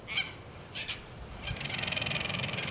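A wild bird near an off-grid lagoon setting calls out in honking, goose-like cries: two short separate honks, then a longer run of rapid pulsing calls, fairly close and clear over quiet outdoor background.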